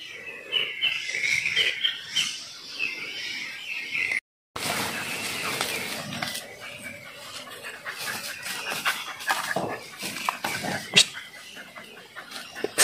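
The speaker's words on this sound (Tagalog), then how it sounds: "Daming humuhuning ibon." Many birds chirp and call outdoors in rural Lagonoy, Camarines Sur, with a steady layer of busy high-pitched tweets and trills that continues after a brief dropout. A dog and insects may be mixed in faintly.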